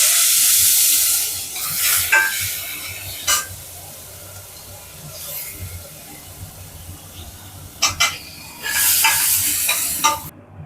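Oil sizzles and hisses steadily as finely chopped onions fry, with bursts of louder crackling and a few scraping stirs against the pan.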